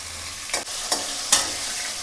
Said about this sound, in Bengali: মানে বেশি কড়া করে ভাজছি না, হালকা করে ভাজলাম